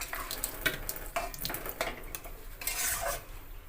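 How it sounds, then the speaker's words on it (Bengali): A bowl crusted with spices is rinsed and scrubbed in water in a home kitchen, with clinking, scraping and splashing in irregular bursts, close and moderately loud. "বাটিটা ধুয়ে দিচ্ছে, বাটিটার মধ্যে প্রচুর মশলা লেগে আছে, দিদি ধুয়ে দিচ্ছে।"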